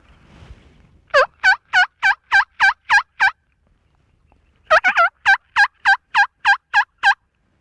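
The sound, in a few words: turkey call imitating a hen's yelp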